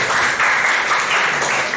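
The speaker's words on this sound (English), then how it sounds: "give them a thunderous applause" Audience applause at a Toastmasters club meeting, a dense, steady wash of many hands clapping together for nearly two seconds, fairly loud and close, with no voices over it.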